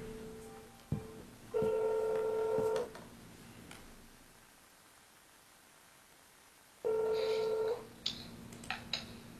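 A telephone number being dialed on a phone, with two bursts of clear DTMF beeps about a second apart separated by quiet line hiss, then a few faint clicks and ticks near the end.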